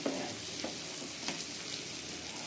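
Potatoes fry in hot oil with garlic, asafoetida and curry leaves, a steady close sizzle with a few soft stirring scrapes and no talk.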